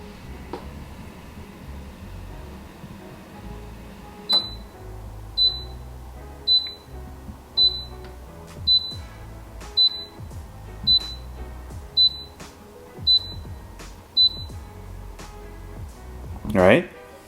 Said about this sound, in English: you can also hear that beeping sound as well